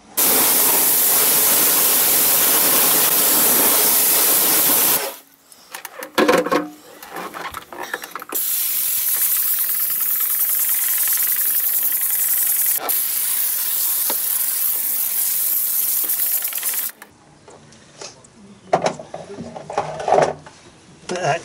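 A foamer sprays HDD Brake Through wheel shampoo onto wheels, giving two long, steady hissing bursts separated by a short pause with faint handling clatter, and lighter rattles after the spraying stops.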